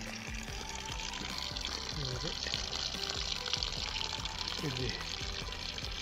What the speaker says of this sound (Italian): ecco qui l'acqua che corre